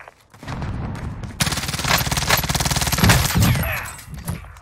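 Rapid bursts of automatic fire from an AUG rifle in Call of Duty: Black Ops Cold War, loud and close, with fast rattling shot trains continuing almost without pause.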